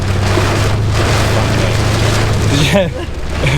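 Rain falls in a dense, continuous hiss, fairly loud and close, and near the end a person begins speaking over it.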